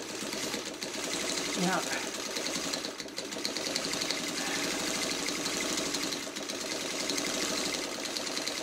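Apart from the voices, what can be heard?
sewing machine stitching a coaster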